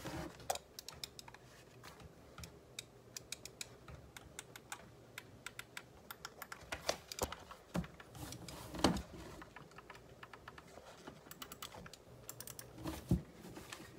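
Close, quiet clicking of Razer Basilisk Ultimate mouse buttons, a run of sharp, irregular taps with a few louder presses against a faint background.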